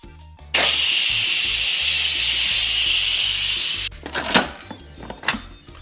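An electric pressure cooker releasing steam in a loud, continuous close hiss lasting about three seconds and then cutting off abruptly, followed by a few clatters and knocks.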